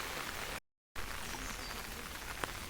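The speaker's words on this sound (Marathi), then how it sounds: "बघा किती पाऊस लागतोय" Steady rain in the Konkan region hisses evenly across the whole stretch, broken by a brief total dropout near the start, with one sharp drip-like tick late on.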